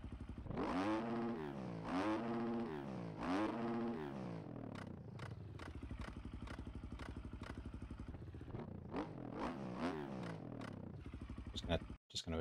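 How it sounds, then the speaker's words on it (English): A dirt bike engine in the MX Bikes motocross game revs in three rising-and-falling sweeps, then holds a rough, buzzing drone. The engine is loud and near, and brief talk and clatter break in at the end. "when they say sound is off, they mean that the revving is off"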